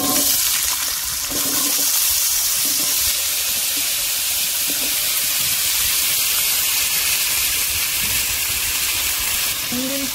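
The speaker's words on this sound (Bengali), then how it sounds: "এদিকে আলু পেঁয়াজটা একটু ভাজতে দিয়েছি" Potatoes, onions and green chillies sizzle in hot oil in a kadai, a loud, continuous frying hiss that stays steady throughout, with a few faint knocks in the background.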